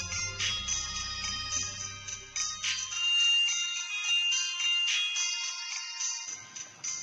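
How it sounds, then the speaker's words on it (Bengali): A mobile phone rings with an incoming call, a bright repeating melodic ringtone that plays loud and close, alone, for several seconds. "আপনার বউ দিদি ফোন করছে"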